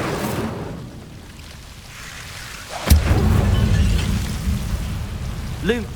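In the Hogwarts Legacy video game, an Incendio fire spell is cast against devil's snare. A sudden sharp whooshing burst erupts into a loud, low, roaring crackle that lingers, with a voice briefly heard in the game audio.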